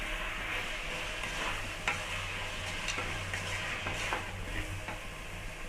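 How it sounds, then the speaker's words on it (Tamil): Onions and tomatoes soften in a pan with salt and a little mint, sizzling quietly while a spoon taps and scrapes at intervals in a soft, steady stir. "வெங்காயம் தக்காளிலாம் நல்லா வதங்கிச்சு"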